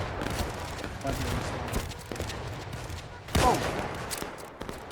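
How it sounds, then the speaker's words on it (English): Gunfire in the World War II shooter Easy Red 2 during a Gettysburg campaign battle, with continuous overlapping shots crackling at mid distance, one louder burst near the end, and a man's brief exclamation over it. "Keep shooting, boys. Keep shooting."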